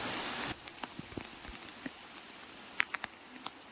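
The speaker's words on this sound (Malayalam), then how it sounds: "മഴയാണ്." Light monsoon rain in Kerala patters with a soft steady hiss, punctuated by irregular close drips and small taps.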